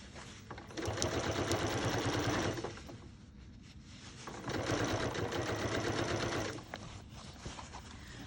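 A sewing machine hems a pair of pants with bias tape in two steady runs of rapid stitching, with a short quieter pause between them. The sound is close, even and uninterrupted by speech.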